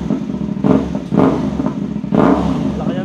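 Motorcycle with a full carbon exhaust revs in three sharp blips, each a loud rising burst over a rumbling idle, close by with a voice faintly underneath.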